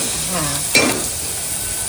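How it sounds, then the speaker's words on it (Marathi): A single sizzling burst as hot tempering is stirred into potatoes, flaring briefly and then fading into a low, steady background hiss. "आता ही फोडणी बटाट्यात घालायची ना"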